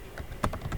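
Brief burst of typing on a computer keyboard, a handful of soft key clicks in quick succession, close and fairly quiet.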